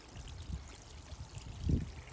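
Spring water pours off a rock beside a hiking trail on New Zealand's Te Araroa route, making a steady, close splashing stream with a louder gush near the end.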